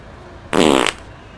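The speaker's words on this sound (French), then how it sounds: "c'est qui qui a pété" A single loud, close fart, a buzzy, sputtering burst lasting under half a second before quiet returns.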